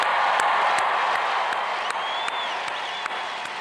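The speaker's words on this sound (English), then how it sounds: "Let's give the class of 2026 a round of applause." Audience applause for a graduating class at a spring liberal arts college commencement ceremony, a steady wash of many hands clapping in a large crowd with a few sharper claps and a faint cheer.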